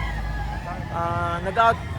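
A rooster crows once at a backyard chicken seller's, a short harmonic call rising over a low engine rumble and nearby conversation.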